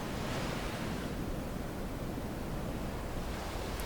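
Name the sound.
ocean waves breaking on a beach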